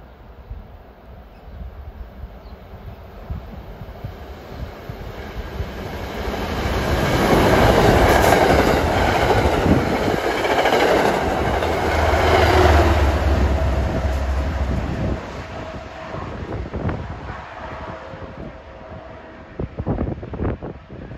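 A commuter rail train rumbles past with rising then fading roar, rhythmic clatter of wheels on rails and wind noise, loudest midway through.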